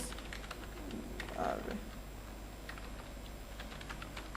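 Quiet keyboard typing during a web design lesson, a scatter of light, irregular key clicks at low level under faint room noise, with a brief murmur of a voice in the middle.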